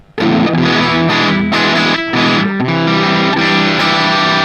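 Distorted electric guitar through a Flamma FS06 preamp on its first, Fender-style voice plays loud, saturated chords and riffs close up, with short breaks between phrases and no talking.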